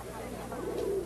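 Doves or pigeons give a soft, low coo, brief and faint against quiet background noise.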